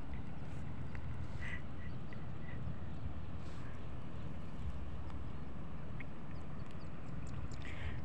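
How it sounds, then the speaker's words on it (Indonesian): Near water, a duck gives a few short quacks that sound faint and distant over a steady low rumble of outdoor background noise. "Bebek."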